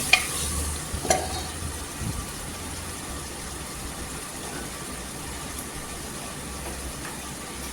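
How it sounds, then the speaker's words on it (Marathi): Biryani masala is sautéed in oil for a soya bean pulao, a steady frying hiss with a few spoon scrapes and knocks near the start, then continuous sizzling alone. "इथे छान असं तेलावर आहे ना मसाला परतून घ्यायचा पूर्णपणे"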